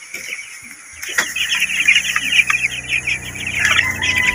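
Broiler chicks peep in a busy, high-pitched chorus of many overlapping cheeps, close and continuous, with a few louder clanks at times.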